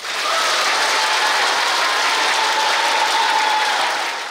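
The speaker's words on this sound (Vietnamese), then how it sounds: "xin quý vị hãy dành những tràng pháo tay thật lớn" Sustained applause from a large audience at a comedy gala held at a Buddhist temple, a dense steady clatter of clapping that stays loud and even throughout with no voices.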